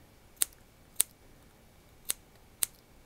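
Scissors make four short, crisp snips, close and quiet, spaced irregularly over near-silence with no talking.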